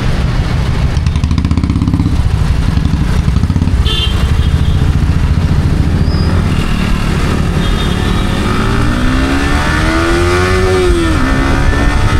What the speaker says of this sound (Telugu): R15కి ఫుల్ థ్రాటల్ ఇస్తే అలా అరుస్తుందండి